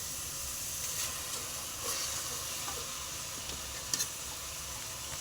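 Fish curry base of onions with salt frying in oil in a pan, a steady broadband sizzle and crackle that holds for the whole stretch, with a few brighter pops and a stir or clink near the end; no talking.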